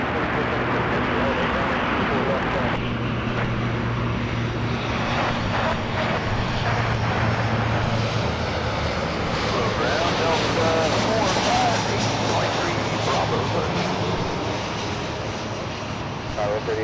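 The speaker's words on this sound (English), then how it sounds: "This one coming in right now is Southwest 1870 from San Jose." Southwest airliner on approach to land at Los Angeles International Airport, a loud continuous jet engine roar that swells and holds, with talk and radio chatter running underneath.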